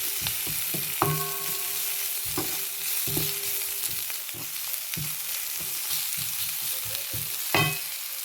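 Vegetables sautéing in a pan for a noodle dish, a steady soft sizzle broken by repeated scraping and stirring knocks of a utensil, close and with no talking.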